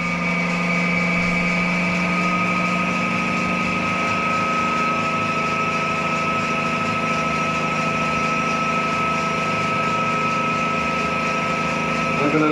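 A crankshaft balancing machine spins a Lotus Twin Cam crank at 800 RPM, a steady droning hum with sustained tonal whine that holds even throughout, close and alone without speech.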